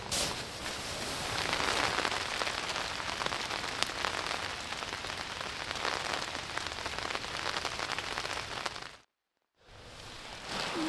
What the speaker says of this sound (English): Rained pretty hard last night.